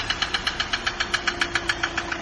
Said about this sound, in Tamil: இன்ஜினுக்கு ஆயில் பற்றாமல் கனெக்ட் ராடோட நாய்ஸ் வந்துச்சுங்க வண்டியில்